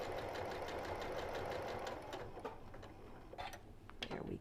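A domestic sewing machine stitches fabric for a Japanese rice bag, locking the stitch, with a steady fast mechanical whir and ticking needle rhythm at low level that slows and pauses near the end.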